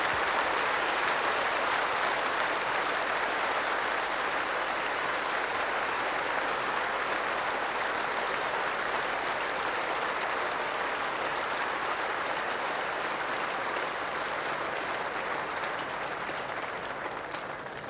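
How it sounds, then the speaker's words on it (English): A small crowd at a cricket match gives a sustained ovation, dense steady applause that holds for the whole stretch and only eases slightly toward the end. "a splendid ovation here from a small crowd"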